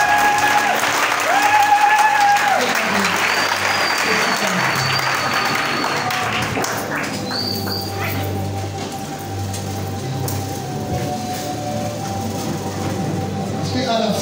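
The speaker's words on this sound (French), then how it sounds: "est-ce que quelqu'un peut acclamer le Seigneur?" A church congregation bursts into loud sustained applause and cheering to acclaim the Lord, clapping filling the space alongside voices and shouts, tapering slightly but continuing throughout.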